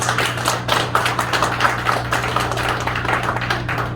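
An audience applauding at a political gathering, a steady patter of many hands clapping at moderate volume over a constant low electrical hum.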